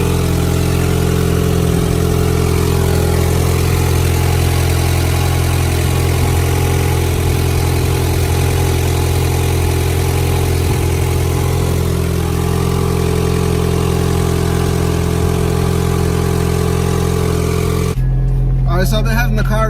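An Acura Integra engine idles after a thermostat replacement, a loud, steady, even hum with a low rumble that holds for most of the stretch before changing abruptly near the end.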